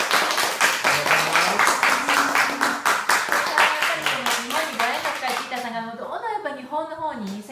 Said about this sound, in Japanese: どうぞ大きな拍手を。